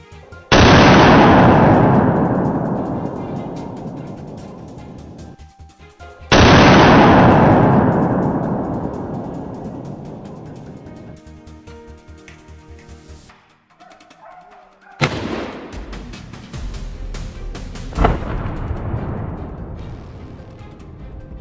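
Loud gunshots during a wild boar hunt on a mountainside: three big reports, each ringing out and decaying over several seconds, the last followed by rumbling echoes.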